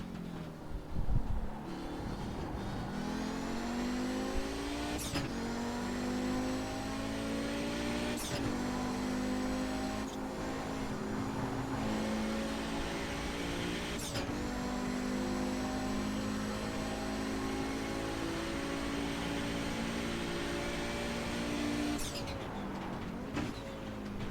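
An Audi 90 IMSA GTO Quattro racing car engine in the iRacing sim, revving hard through a run of gears, each rising wail cut by a sharp upshift, loud and steady throughout.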